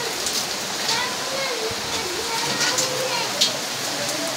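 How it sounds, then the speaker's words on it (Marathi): First rain of the season beginning to fall in a village, a steady soft patter on surfaces with occasional louder drops, someone talking over it. "फर्स्ट पाऊस पडतो. आत्ता 2 मिनिटाखाली काहीच नव्हतं, पण आता पाऊस सुरू झाला."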